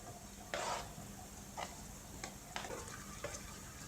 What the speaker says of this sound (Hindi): और इसको मिक्स करते हैं। अब मज़ीद 2 से 3 मिनट के लिए गोश्त को फ्राई कर लेते हैं